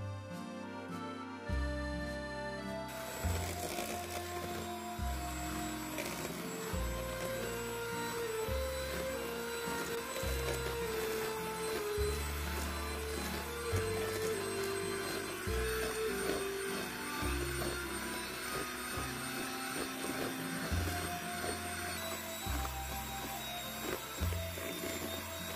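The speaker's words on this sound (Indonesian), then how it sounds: "Mixer hingga mengembang dengan kecepatan paling tinggi." Electric mixer beating cake batter with sugar and vanilla at top speed, a steady loud motor whine that holds for the whole stretch, with background music playing.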